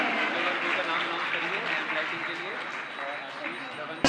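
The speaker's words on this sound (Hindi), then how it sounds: "जोरदार तालियां बजती रहनी चाहिए है" Steady applause from a crowd at a devotional festival, continuous and fairly loud, with some voices mixed in beneath the clapping.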